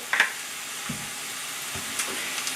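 Chinese sausage and onion fry in a pan with a steady hiss, a few clicks and scrapes of stirring, all close and without talk.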